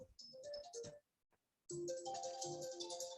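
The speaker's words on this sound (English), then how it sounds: "Sorry, John, my phone just rang" A phone ringtone plays in a room during an online project meeting: a melodic electronic tune in bursts, pausing briefly, then resuming louder and continuing to the end, heard close.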